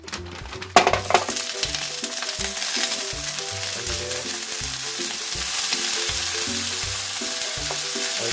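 Partly thawed shrimp hit hot oil in a pan for nasi goreng with a sharp burst, then settle into a steady loud sizzle and spatter, with rhythmic stirring and scraping knocks underneath.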